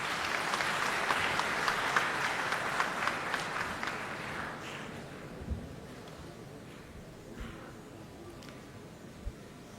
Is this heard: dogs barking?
no